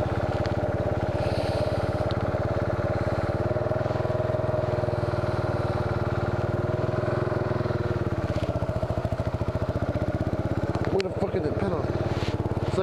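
A Buell motorcycle engine idles and revs steadily up close throughout a test ride, a continuous low throbbing rumble with a slight rise in pitch near the end and a few clanks.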